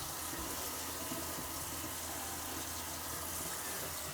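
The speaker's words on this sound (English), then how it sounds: "Let the sink fill about halfway up." Bathroom sink tap running steadily into a filling basin after a vanity install, a constant broadband rush of water with no pauses, close and fairly loud.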